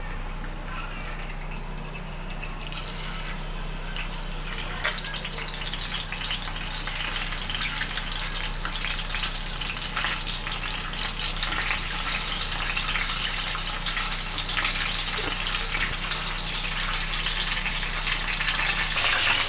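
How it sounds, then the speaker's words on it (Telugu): Eggs frying in three spoons of oil in a kadai on a gas stove, a steady close sizzle and crackle that continues throughout with a constant low hum beneath. "ఎగ్ ఫ్రై చేసేసుకుందాం."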